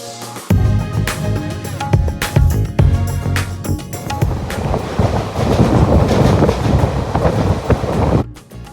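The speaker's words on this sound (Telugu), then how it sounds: "ట్రైన్లో సౌండ్స్ అండ్ లైట్ ఫ్లికరింగ్స్ చాలా గుడ్ ఫీలింగ్ ఇస్తున్నాయి" A crowded Mumbai local train runs along the rails and into a tunnel, a loud continuous rumble with rhythmic clickety-clack and rattling carriage noise that swells into a dense roar, with a brief dropout near the end.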